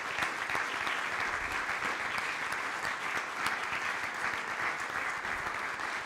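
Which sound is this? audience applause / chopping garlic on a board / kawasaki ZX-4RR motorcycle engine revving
audience applause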